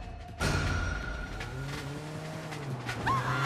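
A street-race car in the video game Sleeping Dogs roars close by, its engine droning continuously after a sudden start, with a short tire squeal near the end.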